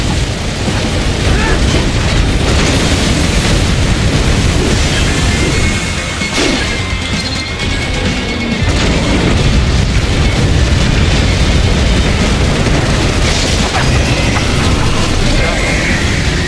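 Plasma cannon blasts in a video game boom and crash continuously in a loud, dense barrage of explosions across the whole stretch.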